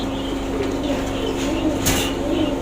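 Domestic pigeons coo softly in a loft, with a brief rustle of flapping wings near the end, steady throughout and close by.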